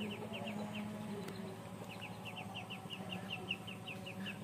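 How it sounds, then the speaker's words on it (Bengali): Native chickens feeding on black soldier fly larvae, with a run of soft, repeated clucks close by over a steady farmyard background. "ওরা ব্ল্যাক সোলজার দেখলে খাওয়ার জন্য পাগল হয়ে যায়।"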